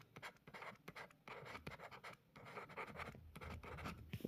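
Chalk or marker scratches continuously across a board while someone writes, with rapid, rough scraping strokes that are close but fairly faint and carry no talk.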